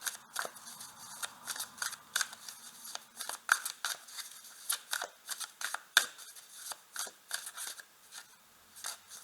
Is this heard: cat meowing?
no